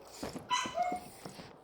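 Faint whining from a dog in the background comes as a couple of thin, drawn-out whimpers, with a few soft low thumps of room noise around them.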